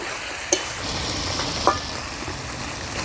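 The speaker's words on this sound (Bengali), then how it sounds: "আলুটা প্রায় ভাজা ভাজা হয়ে গেছে" Potatoes fry in a pan with a continuous, even sizzle, broken by two brief sharp clicks of a utensil against the pan.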